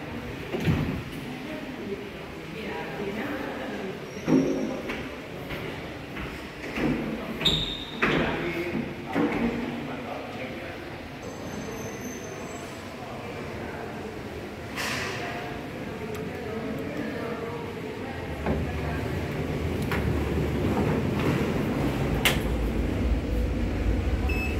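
A 2002 KONE hotel lift's sliding doors close with a soft mechanical rumble and clunks, followed by a rising low hum of motion, while an automated voice speaks and faint background noise continues.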